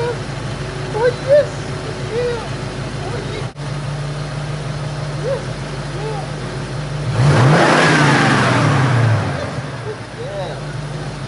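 A car engine idles nearby with a low hum, then revs up loudly for a couple of seconds before settling back, with scattered chirps in the background.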